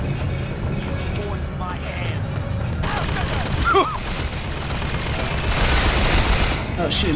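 Rapid gunfire from a shootout in the video game Bioshock Infinite, with dense overlapping bursts of shots filling the whole stretch at steady loudness, mixed with game noise.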